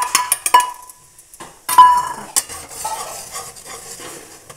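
Gram flour added to hot ghee and stirred for besan barfi, loud metallic clinks of a spoon on the pan followed by scraping stirring strokes over a faint sizzle, close by, no talking.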